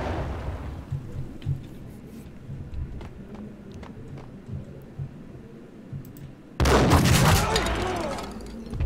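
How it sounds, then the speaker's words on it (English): Grenade explosions and gunfire in the Max Payne video game: a low rumbling battle with scattered clicks and pops, then a sudden loud blast near the end that stays heavy and crackling. "These guys are really duking it out with the grenades."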